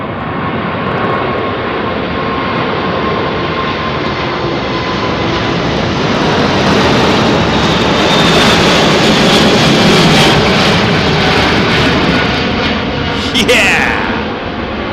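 An airliner takes off from Heathrow runway 09R with a loud, close, sustained engine roar that swells and holds, its broadband thunder carrying a high whine, while voices talk over it.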